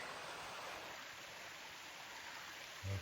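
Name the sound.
stream water flowing in a valley below the trail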